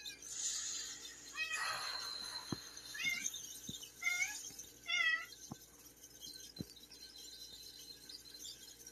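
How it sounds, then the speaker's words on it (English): A cat meows several times in a Roblox game, short rising calls spaced across the stretch over a soft game background, with a few faint clicks. "Wait, a meow? Wait, there's a cat."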